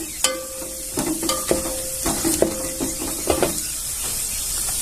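Cloves and cardamom sauté in hot oil in a pan for sweet rice, a soft steady sizzle broken by repeated scraping stirs and light clinks of a spoon, close and without talk.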